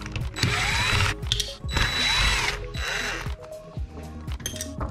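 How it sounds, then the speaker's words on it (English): A T20 Torx bit, likely on a power driver, removes a screw during a digital speedometer install on a Ford Mustang GT: two loud whirring bursts with light metallic clinks and taps between them, close up, with no talk. "take our T20 Torx and remove this guy over"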